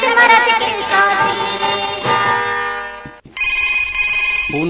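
A telephone rings on a radio phone-in show, a loud electronic ringtone repeating in bursts close up, briefly cutting out before ringing again, with no voices.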